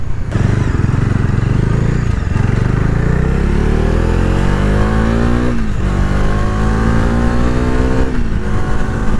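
Motorcycle engine revving hard, the pitch climbing steadily toward the rpm limit in repeated loud, close pulls that drop back between rises.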